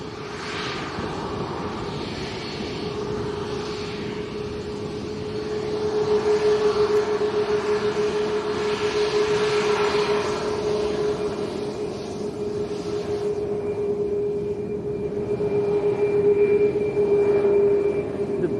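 A TUI airliner taxis at Lanzarote Arrecife Airport, a steady jet engine whine and rumble heard from a distance, swelling and fading slightly as it moves.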